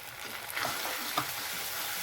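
Turmeric, Kashmiri red chilli, cumin and coriander powders frying in oil, a faint soft sizzle with a couple of brief stirring scrapes, fairly quiet and close.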